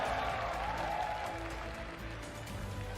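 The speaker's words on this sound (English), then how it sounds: "Please give them a huge round of applause, everybody." Applause from an audience at an esports regional finals event, a steady wash of clapping that holds for the whole stretch, fairly close and loud, with no voice standing out above it.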